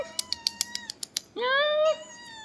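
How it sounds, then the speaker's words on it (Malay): A single cat meows repeatedly in a quiet street mall corridor, a rapid run of short tapping clicks first, then one drawn-out, rising-and-falling meow close by. "Hanya ada seekor kucing merayau-rayau dekat sini."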